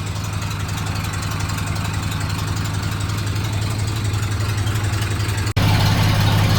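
An old budget truck engine idles roughly and steadily up close, a loud low rumble that cuts out for an instant and comes straight back.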